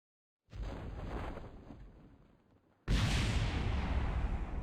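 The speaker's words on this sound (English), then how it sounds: "There may be a slight explosion near the Kerbal Space Center." Two tubes of rocket fuel exploding near the space center in the video game Kerbal Space Program, heard as a roaring blast that fades and then a second, louder, sustained explosive roar.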